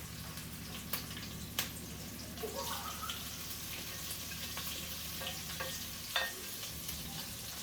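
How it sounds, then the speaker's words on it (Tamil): Onions and fennel seeds frying in a pan for liver fritters, giving a steady low sizzle with scattered spoon taps and clinks against the metal. "இந்த பாருங்க வெங்காயம் கொஞ்சம் வதங்கிட்டது இப்போ நான் இந்த பெரிய சீரகம் இந்த சீரகத்தையும்"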